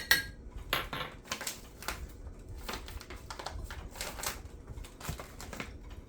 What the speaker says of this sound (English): the sounds you're going to hear from this coffee cup from me stirring it